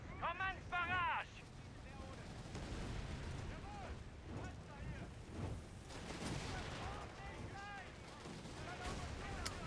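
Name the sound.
artillery barrage from batteries in a video game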